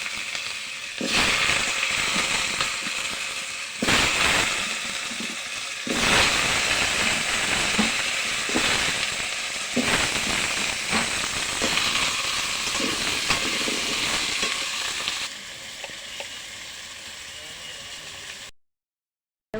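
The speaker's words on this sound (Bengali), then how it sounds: "আর এখন আলুগুলো ভেজে নেব" Potatoes fry in hot oil with cumin, a loud hissing sizzle that surges in bursts as they hit the pan and then settles into a softer steady crackle before cutting off.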